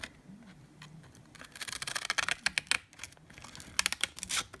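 Shim stock being cut for the neck joint of a vintage Klira acoustic guitar, a run of close, crisp snips and scraping cuts that grow busier and louder toward the end, with no talking.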